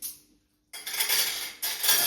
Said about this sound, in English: So we'll give you back your cutlery.